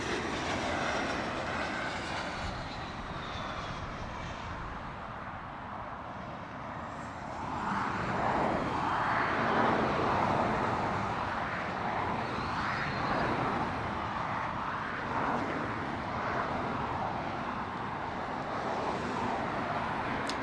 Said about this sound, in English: Got a little E175 coming in.